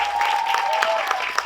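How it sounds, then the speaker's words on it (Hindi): Applause from an audience at the teaser launch event for the film Border 2, brief clapping heard alongside a faint tone and some voices. "एक बार जोरदार तालियां वरुण के लिए"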